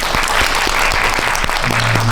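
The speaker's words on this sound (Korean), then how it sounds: "네, 큰 박수 부탁드리겠습니다." A film festival audience applauds loudly at the close of a post-screening talk, with sustained dense clapping from a packed room and a brief tonal hum near the end.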